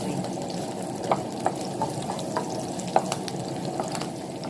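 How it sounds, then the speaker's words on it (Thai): Chili and garlic being stir-fried in a pan, a soft continuous sizzle broken by a series of light, irregular spatula scrapes and taps, fairly close. "เราจะผัดให้หอมเพียงเล็กน้อยนะคะพริกกับกระเทียมนะคะ"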